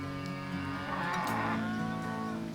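Cattle on a grassland ranch give a long, loud, steady moo that fills the whole stretch, with a second animal lowing faintly in the background and no talking.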